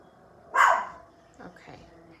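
A single loud dog bark close by, followed by fainter vocal sounds like a voice or low whine in a quiet room.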